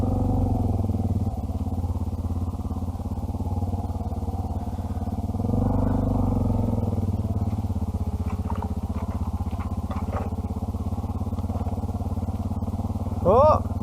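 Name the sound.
Honda Africa Twin and Suzuki DR650 motorcycles riding through thick scrub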